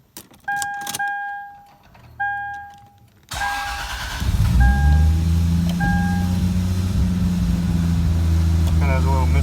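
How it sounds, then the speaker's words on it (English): A Lexus GS350 with a swapped 1JZ engine cranks over after a few chimes and key sounds, then fires up into a steady idle with a slight misfire, running loud and close. "I'll give it a little rev"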